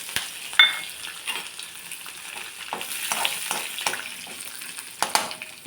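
Curry leaves crackle and sizzle in hot oil in a pan while plantain upma curry is cooked, a steady close frying hiss punctuated by sharp pops and spoon stirs, with no talking.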